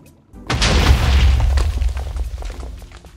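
A bomb plant exploding in the modded Minecraft pack Hexxit: one loud, close blast bursts in after a short quiet moment, then its rumble fades over about two and a half seconds.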